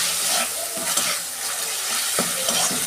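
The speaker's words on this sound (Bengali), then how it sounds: "টমেটো দিচ্ছি। আমি ভালো করে কষাবো।" Tomatoes cooking down in a hot pan with garlic paste, a steady close sizzle and hiss with scraping stirs and clinks through the whole stretch, no voices.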